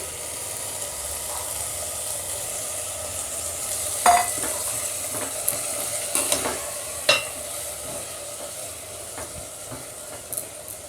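Pieces of goat tripe (boti) sizzle and fry in a pan for a gongura curry. The frying hisses steadily and softly throughout, with a few sharp scrapes and clinks of stirring near the middle.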